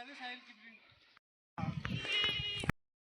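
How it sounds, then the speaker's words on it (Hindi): Sheep bleat in a Himalayan field in Uttarakhand while a match goes on nearby: wavering, tonal calls come up close and fairly loud, with a short gap of quiet between them. "अभी फील्ड में मैच चल रहा है और यहाँ आ चुकी है भेड़ें"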